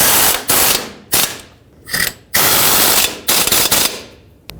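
A ratchet or impact tool runs in several loud bursts, tightening the bottom strut bolts on a 2015-2020 GMC Yukon. Rapid rattling runs are split by short pauses, close and harsh.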